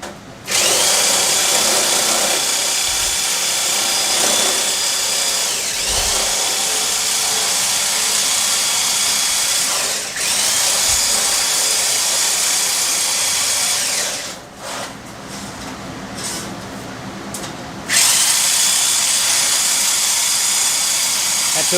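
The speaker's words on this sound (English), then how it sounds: "So here's cutting up the top radiator" A power tool cuts through a 065 aluminum top radiator support on a hot rod, giving a loud, continuous whining drone with brief dips and one pause before the cutting resumes.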